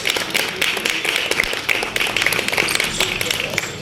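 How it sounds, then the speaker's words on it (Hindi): Applause at a Karni Sena committee meeting, a dense patter of many hands clapping continuously for a few seconds at close range. "जोरदार तालियां।"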